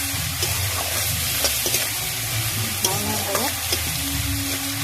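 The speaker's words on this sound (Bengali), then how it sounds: "পেঁয়াজ কুচিগুলো দেওয়ার পরে একটু নাড়াচাড়া করতে হবে। পেঁয়াজটা একটু ভাজা ভাজা হবে" Chopped onions sizzle and fry in a pan while being stirred, a steady close crackle broken by scraping stirs and faint clinks, with no talk.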